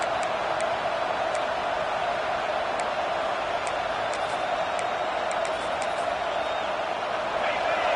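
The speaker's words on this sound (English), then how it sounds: "this home crowd is fired up and ready to make a difference today" Home crowd at a football game roaring steadily throughout, a dense continuous wash of cheering with occasional sharp whistles rising above it.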